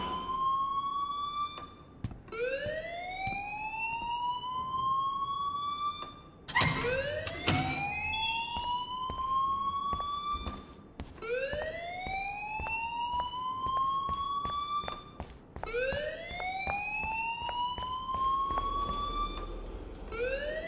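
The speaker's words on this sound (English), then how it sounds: "please turn off that alarm since that's your job" An alarm in Life is Strange wails in repeated rising sweeps, each cycle climbing in pitch before restarting, loud and insistent, with a brief burst of clatter partway through.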